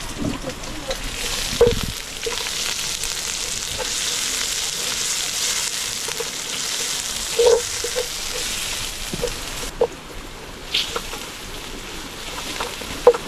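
Steady oil sizzle from a pan of frying Maggi instant noodles with occasional clinks of a utensil stirring, continuous and close, a few voices murmuring faintly in the background.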